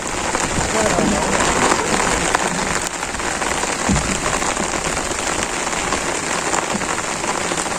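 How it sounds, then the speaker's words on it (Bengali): Heavy rain pours down hard and constantly, a loud dense hiss of drops striking surfaces close by throughout, with no break. "অনেক জুড়ে নামছে বৃষ্টি"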